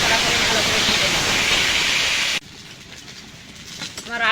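Potatoes frying in hot oil for a mutton curry give a loud, dense sizzle that cuts off abruptly about halfway. A quieter hiss and crackle follows.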